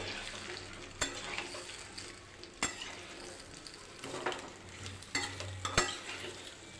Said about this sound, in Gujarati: બરાબર હલાવી લઈશું ઉપર નીચે આવી રીતના કરીશું એટલે આપણા બધા મૂઠિયામાં વઘાર લાગી જશે